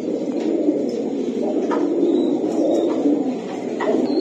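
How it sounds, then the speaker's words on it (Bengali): Pigeons coo at a busy pigeon market, soft repeated calls rising from a steady low crowd murmur that fills the whole stretch. "এই 2 জোড়া কবুতর 2 জোড়া কবুতর কত?"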